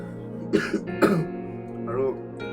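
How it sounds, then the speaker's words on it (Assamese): A person with a cold coughs twice in quick succession, close and fairly loud, followed by a brief vocal sound. "এনেই কাহ হৈ আছে"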